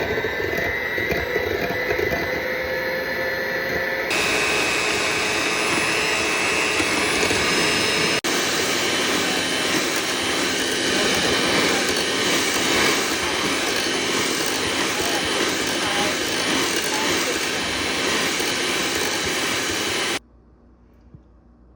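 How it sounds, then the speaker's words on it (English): An electric mixer beats egg whites mixed with beef gelatin into a fluffy foam, a loud steady whirring drone that holds for about twenty seconds, shifts pitch slightly early on, then cuts off abruptly, with no talking. "we're gonna beat them until they're nice and fluffy white"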